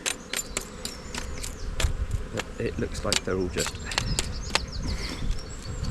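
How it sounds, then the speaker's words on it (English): Honeybees buzz around an opened backyard hive during an inspection, a low humming drone mixed with sharp clicks and knocks from handling the equipment, while a person talks over it. "So just empty those bees out in front of the hive"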